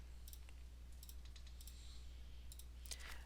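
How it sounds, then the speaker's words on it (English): A computer mouse clicks on items in Bluebeam Revu software: soft, close clicks in small pairs and clusters spread across a few seconds over a faint low hum, with no talking. "All we need to do is click on each item."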